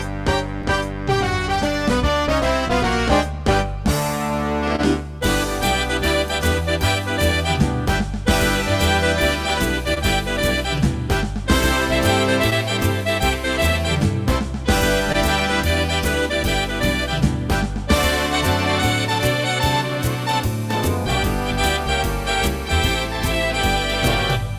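A swing band rhythm plays continuously and loudly, with dense brass and rhythm section and steady beats throughout, no voices.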